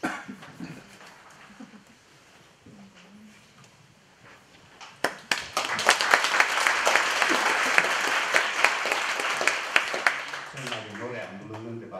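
Someone speaks quietly at a lecture event, then a roomful of listeners bursts into loud, sustained applause with sharp individual claps standing out, before speech returns near the end.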